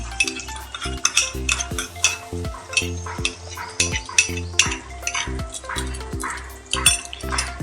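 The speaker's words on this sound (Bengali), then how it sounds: "চালমগজ আর পোস্ত বাটাটা দিয়েও আমি একটু কষিয়ে নেব" A ground paste of melon seeds and poppy seeds sautéing in a pan, with frequent metallic clinks and scrapes of a spoon against the pan over a soft sizzle, close and busy, with no voices.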